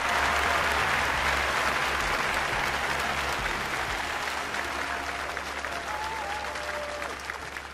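A stadium crowd in the London 2012 Olympics video game, at an archery event, breaks into sustained, dense applause that holds steady and fades slightly toward the end.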